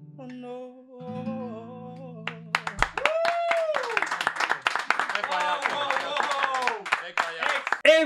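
An audience claps after a sung performance, a dense run of sharp overlapping handclaps that starts abruptly after a few seconds of held musical tones and carries on steadily to the end, with a voice heard briefly.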